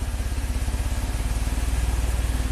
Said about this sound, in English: Rev it up. Come back to an idle, nice and steady.